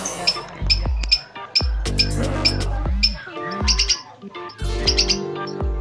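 A pair of lovebirds chirps in repeated short bursts of high tweets and calls, close and fairly loud, with a low thumping background and some talk mixed in.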